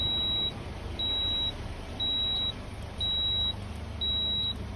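A factory CNG gas system on a Toyota Altis beeps a warning as it fails to switch to gas: five evenly spaced, high-pitched tones about once per second, over a low steady engine hum.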